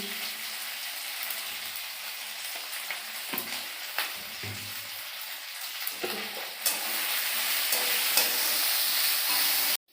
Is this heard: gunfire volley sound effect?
no